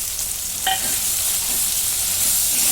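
Tomato and spices fry in a hot pan for palak paneer, a loud steady sizzle that barely changes, with a brief stir or clink early on and no voices.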